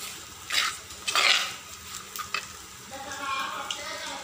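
Spice powders heat in a pan under a low sizzle, with several bright bursts of utensil scraping and clatter as they are stirred, then a softer frying hiss toward the end.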